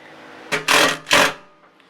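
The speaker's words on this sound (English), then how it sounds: "I'm going to put a self-tapper to lock a position" A self-tapping screw is driven into a panel on a crew cab Chevy S10 truck build, with two loud drill whirs of about a quarter second each, close by and separated by a short pause.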